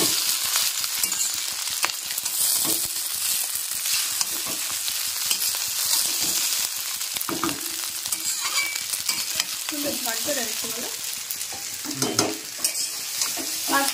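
Pasta frying and being stirred in a pan at home, with a steady broadband sizzle throughout and scraping stirs and light clinks of a utensil against the pan, no talking.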